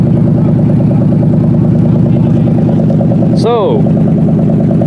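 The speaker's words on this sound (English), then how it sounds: "That hollow noise that kind of resembles a rod knock is where the exhaust is cut off." A junked 1997 Lincoln Continental engine runs with its exhaust cut off, giving a loud, close, hollow rhythmic thrumming pulse that resembles a rod knock, steady throughout, with a brief spoken word near the end.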